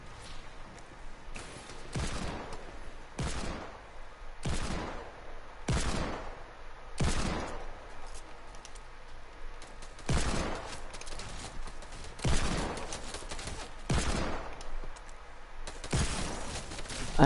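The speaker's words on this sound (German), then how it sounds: "die schießen wieder auf mich" Video game gunfire aimed at the player crackles in repeated sharp bursts and volleys, about a dozen loud shots spaced through a steady background hum, with no voices heard.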